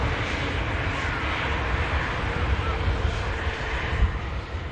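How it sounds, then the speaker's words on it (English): Air France Airbus A220 at Manchester Airport, a steady, distant jet engine roar with a broad, low rumble that holds constant throughout. "Air France Airbus A220."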